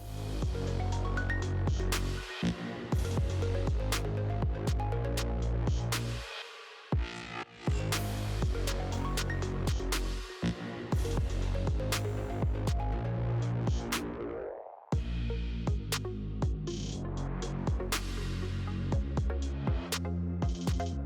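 A sewing machine stitches two fabric halves together across a curved arch for a snapback ponytail hat, running in a loud, continuous mechanical whir close by, with a few brief pauses between bursts.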